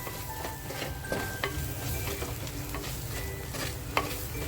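Gram flour masala roasts in a pan over a medium flame for a stuffed crab curry, a steady low sizzle with repeated scraping stirs and a few sharp clinks of the spoon, heard up close.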